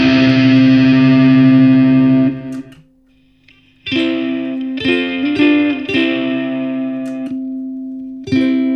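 An electric ukulele heavily processed by an effects pedal, distorted and shimmering chords ringing out, a brief pause, then more strummed hits with sustained, warbling tails.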